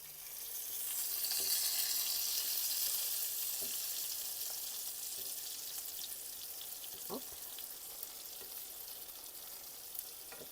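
Porcini mushrooms fry in a pan with a steady close sizzle and crackle that swells and then holds, broken by a few soft clinks and scrapes as they are turned.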